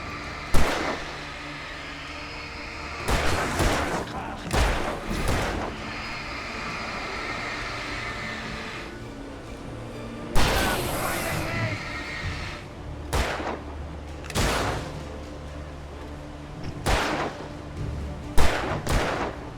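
Gunfire in the video game Alan Wake Remastered: scattered loud shots and bursts over a dense, rumbling ambient backdrop, irregularly spaced across the scene, with no talking.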